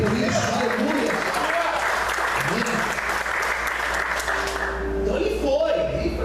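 Church congregation applauding during a sermon, steady clapping that fills the whole stretch, with voices and tonal sounds mixed in underneath and talking or singing coming through near the end.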